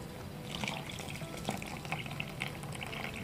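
Hot water poured from a cup into a mixing bowl for flour tortilla dough, a faint soft splashing trickle with small irregular bursts, close and alone.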